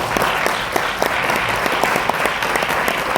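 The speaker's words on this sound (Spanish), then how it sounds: "Un aplauso para ti." An audience at a literary event in Torrejón breaks into sustained, loud applause indoors, with dense clapping throughout and no speech over it.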